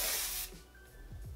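Hair spray from a can misted over short styled hair, a brief loud airy hiss up close that cuts off after half a second, followed by faint handling sounds.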